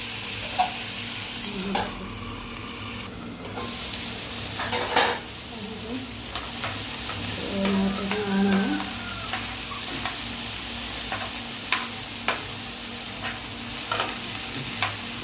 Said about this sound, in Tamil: கொஞ்சம் உப்பு போட்டு நல்லா ஃபுல்லாக மிக்ஸ் பண்ணிவிட்டு